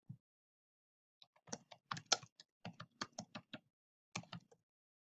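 Rapid, irregular keystrokes on a computer keyboard as a title is typed into an online course discussion, clicking in short clustered bursts with brief pauses, close and clear with no talking.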